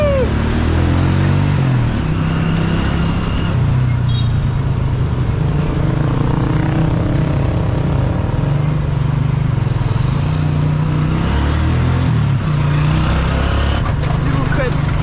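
A small car's engine hums and revs steadily from inside the cabin, a continuous low drone that rises and falls slightly as it drives, with people chatting over it throughout.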